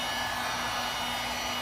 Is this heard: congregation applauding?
no